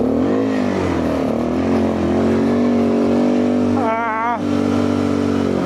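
The engine of a rear-wheel-drive vehicle revs hard at full throttle, a loud and steady roar that climbs in pitch, with a short burst of voice near the end.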